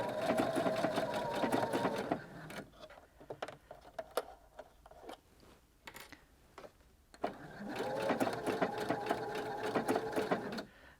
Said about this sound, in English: we've sewn the first few stitches, just catching a tiny bit of that fabric